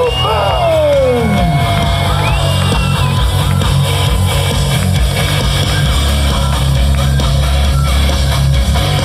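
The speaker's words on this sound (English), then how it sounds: "Please give a round of applause for Luke Stoltman." A loud crowd at a strongman competition cheers, whoops and shouts for the winner, dense and continuous, with a deep low rumble and some voices rising above the roar.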